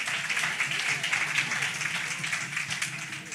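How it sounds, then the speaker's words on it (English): An audience at a community outreach session claps steadily for a few seconds, a dense, continuous round of applause with voices mixed in. "Clap it up"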